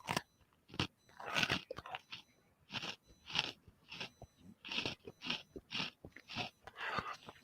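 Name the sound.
chewing pretzels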